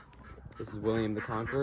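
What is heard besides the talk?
ducks quacking in the background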